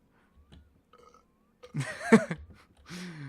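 A character in the video game My Summer Car lets out a loud, drawn-out burp in a shop in front of the shopkeeper, preceded by faint clicks and soft game noises and followed by a brief second exhalation.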